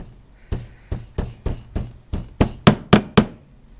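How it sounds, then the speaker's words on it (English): A hammer strikes metal about ten times to bend it over, with sharp close knocks that start spaced out and then quicken and grow louder toward the end, with no talk. "And take my hammer. And carefully bend it all the way over."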